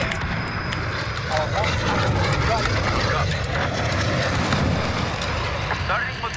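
A VTOL aircraft in the game Modern Warfare, its engine droning steadily and loudly throughout with no pauses, while a player talks over the constant roar.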